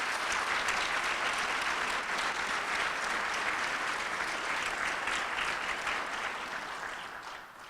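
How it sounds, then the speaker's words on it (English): A large audience at a student recognition breakfast claps in sustained, dense applause, loud and steady before thinning slightly toward the end. "Give them another round of applause."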